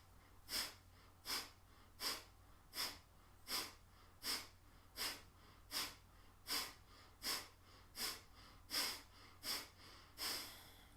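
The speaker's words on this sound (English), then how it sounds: "Short breath in. Snap the belly back with each exhale." Breath of fire in a yoga session: a steady run of about fifteen short, forceful nasal exhales, evenly spaced roughly every 0.7 seconds, close and alone with no talking.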